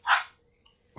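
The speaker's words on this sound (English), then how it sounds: "Oh, sorry, dogs are barking." Dogs barking nearby in a short loud burst, then quiet, then another bark starting near the end.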